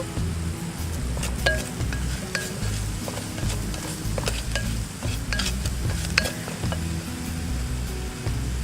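Steady crackling sizzle of curry leaves frying in a hot pan with cardamom, with occasional clinks and stirring scrapes, no talking.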